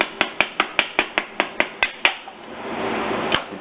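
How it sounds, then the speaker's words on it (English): A transmission front servo cover is gently tapped with a soft mallet, giving about ten quick, evenly spaced knocks close by, followed by a lower hissing wash and one last tap. "use a soft mallet or the end of a screwdriver, gently tap on cover"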